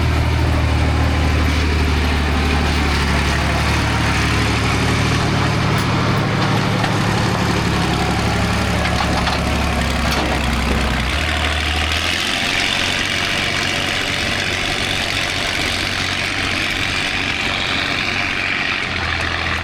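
A 3688 tractor's engine runs steadily on a corn farm, a loud, close low rumble that holds for about twelve seconds before easing into a lighter, broader drone with wind-like noise.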